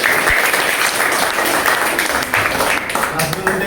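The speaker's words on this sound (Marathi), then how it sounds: "मग शिक्षकांनी टाळ्या वाजवा पाहिजे." Dense, steady clapping from a gathered audience, teachers among them, fills the whole stretch at close range with voices mixed underneath.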